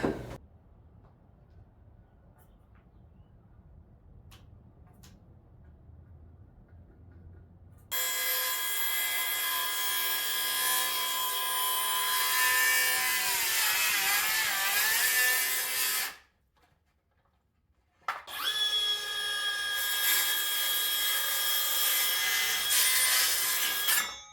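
Power saw cutting wood during a 1920s house bathroom remodel: a loud, steady whine runs about eight seconds, stops briefly, then resumes, after a quiet stretch of faint room sound at the start.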